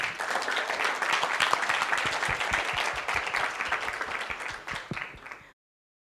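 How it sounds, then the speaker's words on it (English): An audience at an NFT conference in Africa gives a sustained round of applause, dense clapping with a few sharper claps near the end before it stops abruptly. "A round of applause, please."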